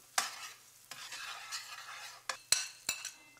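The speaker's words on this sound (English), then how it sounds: "I'm just going to turn it around in the pan, give it a stir or two." Shrimp saganaki ingredients, pepper and onion, being stirred in a pan, with several sharp clacks and scrapes of a utensil against the pan over a faint low sizzle, quiet and close.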